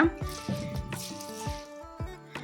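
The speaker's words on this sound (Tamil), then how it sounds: "இனி இதில் தண்ணி சேர்த்துட்டு ஓவர் நைட் ஃபுல்லாகவே ஊற விட்டுடுங்க." Water is poured onto washed rice in a kitchen vessel to soak it overnight for dosa batter, making soft, uneven splashing and dripping sounds at close range.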